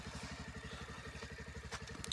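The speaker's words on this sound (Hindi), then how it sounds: "मैंने इसको अब बाइक स्टार्ट करके दिया" A motorcycle engine, just started on a snowy day in Kashmir, runs with a steady, rapid low thudding pulse at close range, with no voices over it.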